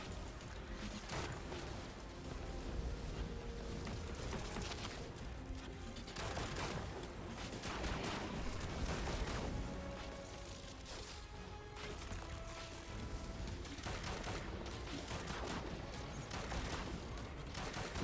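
Repeated gunfire in Destiny 2: Edge of Fate during a solo legendary campaign, with bursts of shots and impacts spread across the whole stretch at moderate, fairly distant loudness and faint low game rumble underneath.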